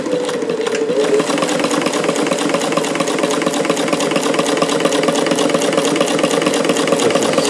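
A Davis vertical feed long-needle sewing machine fitted with 15X1 needles stitches waterproof stabilizer with a steady, rapid mechanical chatter, running continuously and close for the whole stretch.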